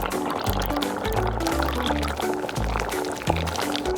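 Milk being poured into a pot for homemade mac and cheese, a steady liquid pour running for several seconds beneath a louder backdrop of music.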